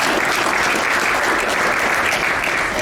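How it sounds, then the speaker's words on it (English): An audience at a chiropractic talk breaks into a short burst of dense, loud, continuous applause with no speech over it. "Give her a round of applause."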